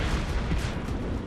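Cannon fire from imperial and Swedish armies in a Thirty Years' War battle, a dense rolling wall of booms and rumbling blasts filling the whole stretch, loud and continuous with no clear gaps.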